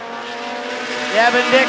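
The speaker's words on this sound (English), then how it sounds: "the fast five are screaming around the speedway." Short track race cars at Rockford Speedway roar past in a tight pack, their engines a dense, rising whine in the middle distance, layered under an announcer's fast commentary.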